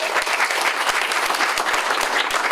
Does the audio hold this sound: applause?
yes